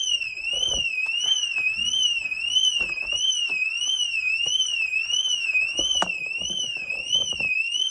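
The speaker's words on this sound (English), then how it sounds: "Alarm works." A Mercedes-Benz C Class coupe's alarm wails continuously with a rapid, warbling, rising-and-falling siren tone, loud and steady throughout, with faint handling noises beneath.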